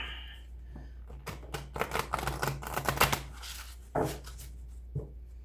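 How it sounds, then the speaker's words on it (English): A rapid flurry of crisp riffles and slaps from an oversized deck of playing cards being shuffled, close up, with a couple of louder thuds near the end and no talking. "Let me try to shuffle these big bad boys."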